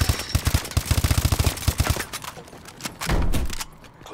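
Gunfire in Call of Duty Advanced Warfare, loud rapid automatic bursts shot through walls, with a dense rattling volley followed by scattered shots and a heavier final burst.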